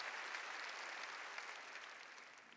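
A church congregation at a 2015 New Year blessing service claps together in a steady, even wash of applause, heard faintly and at a distance with no voices over it.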